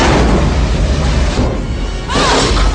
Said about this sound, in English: Yeah, hide there. The explosion will never think to look for you there.